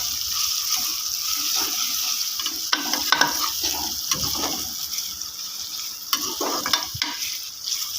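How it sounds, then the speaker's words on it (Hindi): Chopped onions with cumin seeds fry in oil as a close, steady sizzle, with repeated scraping and clattering stirs of the spoon against the pan. "30 सेकंड्स के लिए हमने ज़ीरे के साथ फ्राई कर लेना है।"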